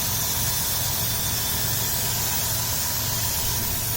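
A Dodge Caravan engine idles steadily up close, producing a continuous low rumble with broadband hiss and no pauses or speech over it.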